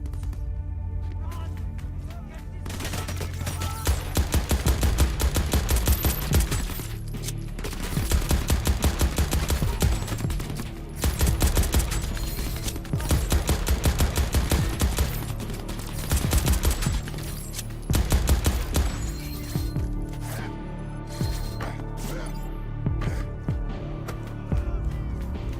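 Sustained machine gun fire in a video game, loud dense bursts of rapid shots repeating with short gaps amid battle noise.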